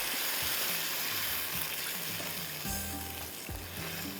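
Meat and its own stock are added to a hot pan for a Chicken Kalonji dish, giving a steady, fairly quiet sizzle and frying hiss with a few soft stirring clunks and no talk.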